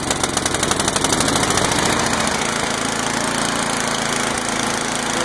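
A Craftsman snowblower's small engine runs steadily right after starting, a loud, close, continuous chugging drone that holds even throughout.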